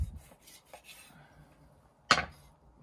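A grilled roll of bacon wrapped around mince and potato being sliced with a knife: faint scraping and light contacts, then one sharp, crunchy cut through the crisp bacon, close and otherwise quiet.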